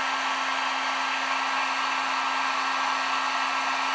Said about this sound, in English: put that heat gun on there. And we're selectively heating that area